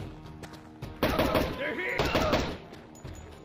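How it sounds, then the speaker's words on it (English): Bursts of gunfire from the tactical shooter game Door Kickers 2, a few sharp shots followed by a dense cluster of rapid reports, with a voice talking over part of it. "Oh, we just shot a civilian."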